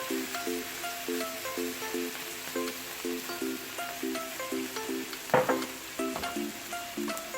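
Two tablespoons of soy sauce hit a hot pan of cabbage Manchurian, giving a steady sizzle and fry under light background music, with a sharper splash of hiss midway.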